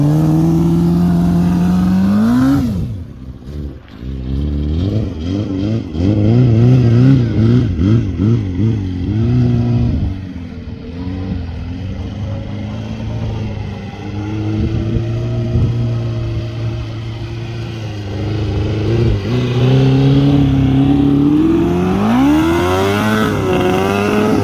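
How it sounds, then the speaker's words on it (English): A quad bike engine revs hard while being ridden on sand dunes, loud and close, its pitch climbing and falling through repeated throttle bursts across the whole stretch, with no talk over it. "so my brother is riding this quad"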